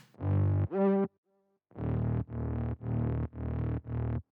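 A distorted high bass synth layer made in Sylenth, built from a saw wave and a half pulse wave with eight-voice unison, plays two sustained notes, then a pause, then five short punchy repeated stabs.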